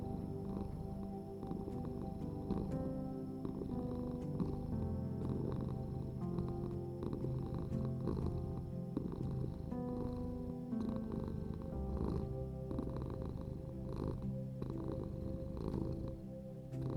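Cat purring close up in a slow, rhythmic rumble of soft inhaled and exhaled pulses, steady and quiet over the whole stretch with no talking.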